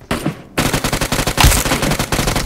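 Rapid bursts of automatic gunfire in a mobile battle-royale shooter, loud and close, with a string of evenly spaced shots following a short quiet gap and one heavier impact in the middle.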